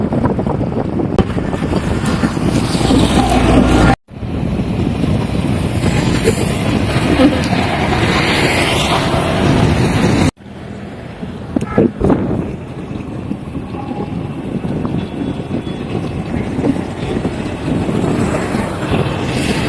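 Strong wind on the Karnaphuli bridge in Chattogram, Bangladesh, buffets the microphone in a constant roaring rush, with a low engine drone underneath and two brief dropouts.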